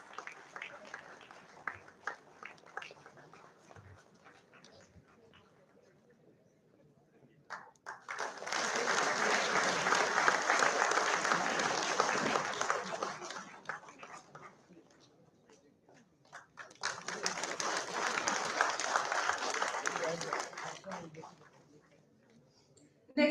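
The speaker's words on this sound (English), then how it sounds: "Come on, everyone, louder and prouder, because they truly deserve every bit of that applause" Audience applause at an IMI Bhubaneswar service recognition ceremony, two sustained bursts of clapping from a large crowd, each lasting several seconds, separated by quieter stretches with scattered claps and background murmur.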